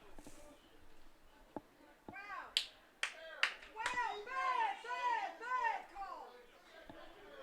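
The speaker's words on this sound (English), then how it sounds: "the Young Harris crowd that is in attendance today making their voices heard" Crowd at a Young Harris college baseball game against USC Aiken raising their voices, with scattered claps and sharp shouts building into sustained yelling and cheering calls, moderately distant and fairly faint.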